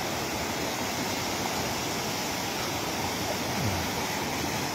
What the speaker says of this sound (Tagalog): So, malakas lang ang agos ng tubig.